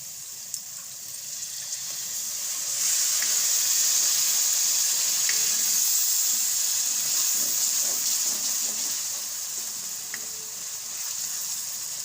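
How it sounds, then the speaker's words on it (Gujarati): Water poured into a hot pan of green onion and pea curry, the steady hiss and bubbling sizzle swelling as the liquid hits the spiced oil, then easing off, close and continuous with no talk. "તો હવે આપણે આમાં પાણી નાખશું"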